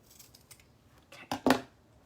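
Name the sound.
scissors trimming the end of wreath mesh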